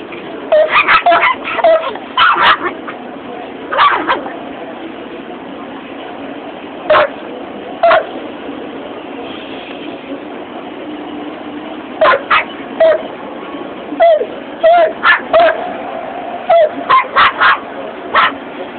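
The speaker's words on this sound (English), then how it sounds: "barking with your mouth full" A Miniature Pinscher gives repeated short, muffled barks and yips with its mouth full of food in scattered bursts, close by, with a steady low background hum between them.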